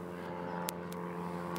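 A small light aeroplane takes off at an airport, its engine a steady, even drone with a continuous harmonic hum that holds at a constant level, broken by a few faint ticks.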